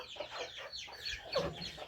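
Backyard chickens cluck in short, overlapping bursts close by, with a busy, chattering rhythm throughout, outdoors where the birds forage on fresh grass.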